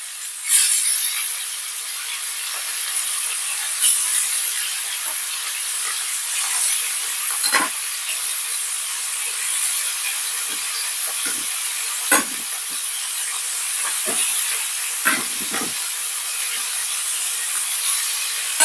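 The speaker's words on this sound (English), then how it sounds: "In Jamaica, we call this, we're browning the meat off." Chicken meat browning in a pot for Jamaican rice and peas, a steady broadband sizzle and hiss running throughout, with occasional scrapes and clinks of stirring, close and continuous with no talk.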